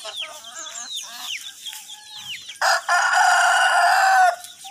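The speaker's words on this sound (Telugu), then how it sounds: "కోళ్ళు లేచాయి. కోడి కుక్కు కొడుతుంది." Hens cluck in short, close bursts during the morning, then a rooster lets out one loud, sustained crow before the clucking resumes faintly.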